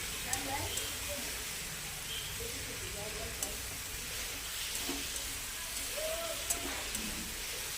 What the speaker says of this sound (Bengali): এই যে আর একটু ভেজে নিচ্ছি।